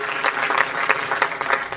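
An indoor audience at an uncut stand-up comedy show in a hall breaks into dense, steady clapping that fills the whole moment, loud and close.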